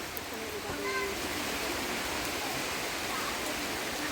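Rain falls in the West Khasi Hills of Meghalaya, heard as a steady, dense hiss that stays even throughout with no break.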